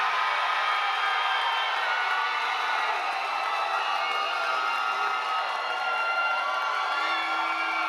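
MMA fight-night crowd applauding and cheering for fighter Marcelo Perez, a dense, loud, unbroken roar of clapping and shouting that fills the whole stretch without letting up.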